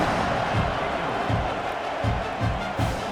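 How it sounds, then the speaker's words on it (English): A stadium crowd buzzes in College Football 26 after a score, a steady roar with periodic low thumps and swells, continuous and fairly loud. "this crowd is buzzing after that last score"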